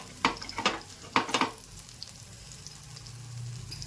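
Lentil appe frying in a pan as they are turned: a few sharp clattering scrapes early on, then a quiet steady sizzle close by, with no talking.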